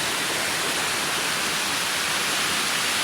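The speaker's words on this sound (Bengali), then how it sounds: "এদিকে একটা ছোটো একটা ঝর্ণা উঠছে দেখতে পাচ্ছি" A small waterfall on a forest trail at Sonaichhari, Feni, gives a loud, continuous broadband rush of falling water close by, with no voices.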